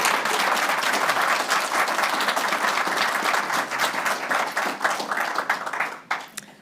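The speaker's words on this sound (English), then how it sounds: "You can clap very loudly now." An audience at a launch event for the Australian Digital Inclusion Index report claps loudly and steadily, dense applause that carries on for several seconds before tapering off and ending.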